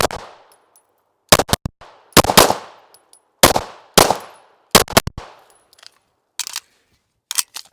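A Sig P320 pistol with an aftermarket barrel fired outdoors, loud sharp shots coming singly and in quick pairs with echoing decays, irregular gaps between volleys.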